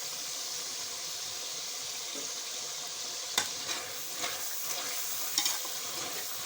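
Spiced masala for an aloo gobi potato and cauliflower curry fries in a pan with chopped fenugreek leaves, giving a steady soft sizzle broken by a few scraping stirs of a spoon against the pan.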